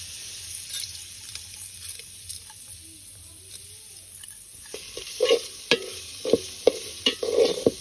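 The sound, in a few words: stirring lentils and spices frying in oil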